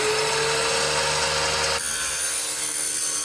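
A Shinko MTC-190 chip saw cutter slices through a thin steel stud runner used in interior construction, giving a loud, continuous high grinding screech that shifts and eases partway through.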